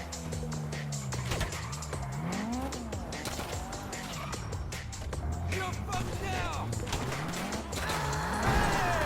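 A car driving in the video game GTA V Online: engine revving up and down with gear shifts and tire squeals, steady and close throughout, with voices talking over it.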